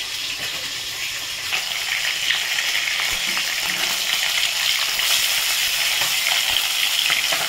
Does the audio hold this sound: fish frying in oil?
yes